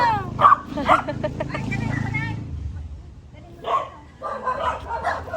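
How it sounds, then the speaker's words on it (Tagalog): A dog barks a few sharp times nearby, once early and again after a pause, while people talk around it. "yan ang aso"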